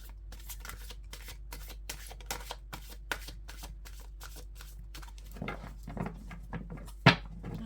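A deck of fairy oracle cards being shuffled by hand, a quick steady run of soft riffling flicks followed by a few scattered card taps and one sharp knock near the end, close and quiet.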